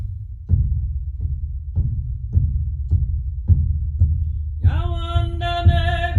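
Slow, steady hand drum beats at about one per second, deep and resonant like a heartbeat, played by a drum keeper at an Indigenous gathering; a voice begins singing over the final beats.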